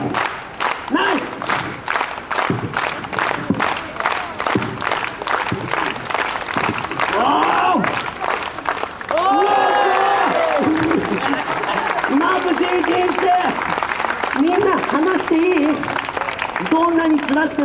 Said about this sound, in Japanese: みんな勇気ちょうだい、元気な手拍子